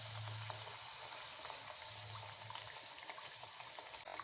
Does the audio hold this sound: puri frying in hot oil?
yes